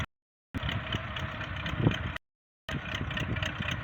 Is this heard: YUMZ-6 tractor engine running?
yes